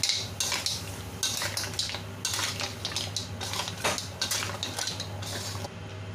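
Green shell mussels and spring onion being stirred in a pan for a Chinese-style dish, with repeated metallic clinks and scrapes of utensil on pan over a low steady hum, close and fairly loud.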